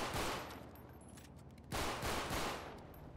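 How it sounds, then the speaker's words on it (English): Two bursts of gunfire in the FiveM roleplay mod for GTA V, each a loud, rapid cluster of shots with a short gap between them. "And shoot again."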